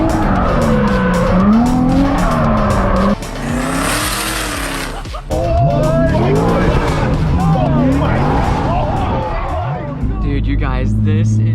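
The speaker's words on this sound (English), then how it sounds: "Today, we are doing some drifting." A 350Z drifting late at night with loud, sustained tire squeal and a revving engine throughout, shifting pitch as the car slides, with people talking excitedly over it.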